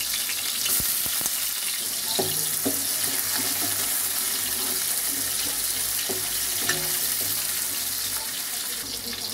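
Onions sizzle steadily in oil reused from frying gobi while veg fried rice is cooked, a continuous crackling hiss with a few light clinks of a utensil against the pan.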